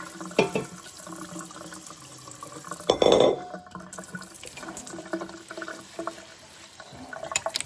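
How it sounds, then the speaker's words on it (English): Tap water runs over salted cabbage in a bowl during pickle making, with splashing, short bursts of flow and a few knocks of the bowl, heard up close without talk. "now we have to rinse the salt off our cabbage."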